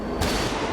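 A single loud gunshot in the horror video game Silent Hill: Downpour, a sudden sharp blast that booms and rings out briefly without any talk.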